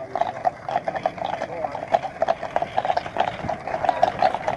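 Horse-drawn carriages arriving at Bommelstein castle in Nederhorst den Berg, with a steady run of hooves clip-clopping over a noisy outdoor background.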